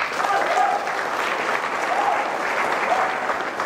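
Sustained audience applause at a PT BEST business meeting, a steady crowd of clapping hands filling the room at even loudness from start to finish.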